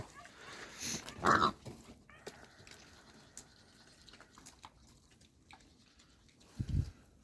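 Pigs and piglets grunt and squeal in a couple of short bursts, one near the start and another near the end, with quieter rustling between.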